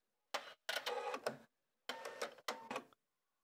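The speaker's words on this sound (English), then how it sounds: "And then just go ahead and stitch. And the lock and the cut." A Husqvarna Viking Sapphire 960 sewing machine makes four short mechanical bursts of stitching, thread locking and cutting, with brief silent gaps between them. The sound is close and clear.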